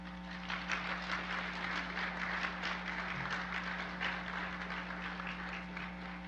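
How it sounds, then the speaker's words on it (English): Sustained audience applause at a Native honoring ceremony for graduates, a dense, steady wash of many hands clapping together that holds evenly throughout, with a constant low hum underneath. "Let us now recognize our graduates with a round of applause."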